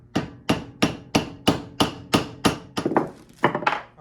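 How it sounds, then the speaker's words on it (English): A hammer strikes a socket to seat new bearings onto the stator of a Moss Caribbean Breeze fan motor, about eleven sharp, evenly spaced metallic taps in quick succession, close by and alone. "I'm gonna use a socket to do gently hammer on it until it gets down seated where it's supposed to be"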